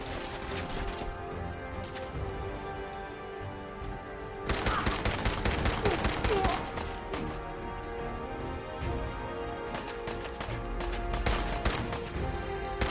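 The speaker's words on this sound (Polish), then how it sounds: "Fajnie się strzela z tego pistoletu. Kilka pocisków na szybkiego." Rapid pistol gunfire in Fallout 4, dense volleys of sharp shots in quick bursts, loudest in a heavy cluster midway and recurring toward the end over steady game background.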